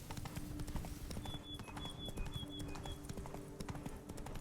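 Roach the horse trots in The Witcher 3 Blood and Wine, its hooves clip-clopping in a quick, steady rhythm, with a faint tonal chirp overhead.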